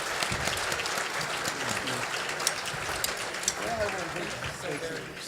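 An audience at a convention panel applauds sheriffs in a dense, sustained round of clapping, with voices mixed in beneath.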